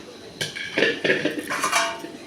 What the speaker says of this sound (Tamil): இதை நல்லா கிண்டி விட்டுக்கலாம்.